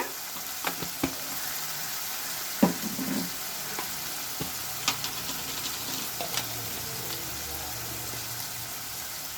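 Tomatoes sauté with turmeric powder in a pan for a sundakkai vatha kuzhambu, giving a soft steady sizzle with occasional clicks and stirring taps, faint and close, with no talk over it.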